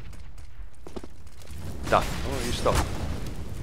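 Gunfire during a Counter-Strike match on dust2 in a regional minor championship, with a couple of sharp shots cutting through mechanical clatter and game noise while commentators talk in Russian.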